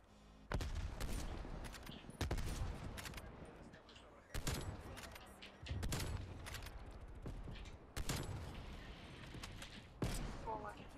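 Video game gunfire comes in several long, loud bursts of rapid close shots, separated by brief pauses, with a voice talking between volleys.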